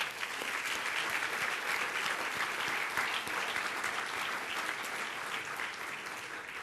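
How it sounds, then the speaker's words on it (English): A large gala audience applauds its sponsors in a long, dense, steady burst of clapping, loud and close, holding strong throughout without any talk. "let's give them one more big round of applause"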